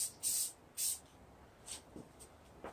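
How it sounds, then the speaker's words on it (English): Black spray paint hisses from an aerosol can onto a curtain rod in two short, fairly quiet bursts, followed by faint handling noises. "we're just going to spray paint this quick"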